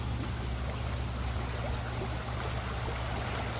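Water flowing through a small creek at a partly blocked culvert after rain, a steady close rushing gurgle that carries on without break and without talking.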